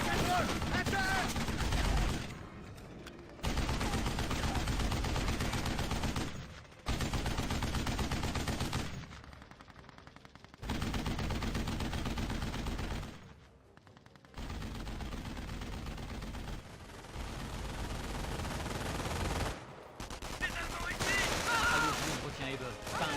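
Gunfire and machine-gun bursts in the video game Company of Heroes, dense loud volleys broken by brief silences, with voices shouting over the shooting.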